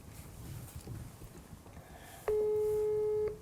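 A single long electronic telephone call tone sounds for about a second near the end, loud and steady with harmonics, after a quiet murmuring background.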